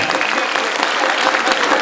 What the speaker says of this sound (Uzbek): Qarsaklar kutib oling